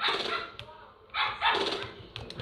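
Dog barking in a video game: a few short, sharp barks in quick bursts with brief gaps, close and fairly clear, with no talk over them.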